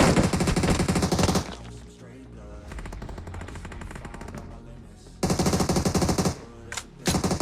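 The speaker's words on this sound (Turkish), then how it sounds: "Oğlum takım arkadaşımı vurma be." Loud automatic gunfire in PUBG Mobile played on an emulator, dense rapid bursts that open the clip, pause under a duller stretch, then return in another heavy burst near the end.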